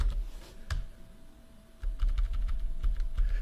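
Keys tapped on a computer keyboard while entering a sudo command and password, a quick run of light close clicks that grows denser and more regular in the second half.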